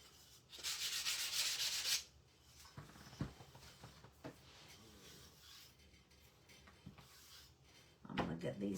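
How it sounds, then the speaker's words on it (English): A wooden craft block is sanded with worn 120-grit sandpaper, with a loud, close two-second burst of scratchy rubbing, then quieter handling and tapping, and a short second sanding stroke at the end, while a person talks. "I always like to give it a quick sand."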